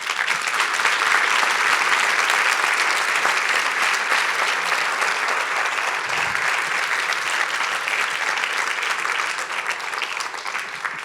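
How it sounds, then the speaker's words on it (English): A townhall meeting audience gives a big, steady round of applause, dense clapping that fills the room without pause from start to finish. "for all of them, we give a big round of applause"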